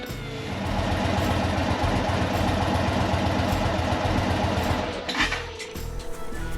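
An Indian Chief Thunderstroke 111 or 116 motorcycle engine idling inside a garage before an oil change, a steady low, throbbing rumble that runs evenly and then drops off near the end, with no talk over it.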